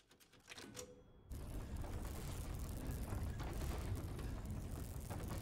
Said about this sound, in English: I got a typewriter.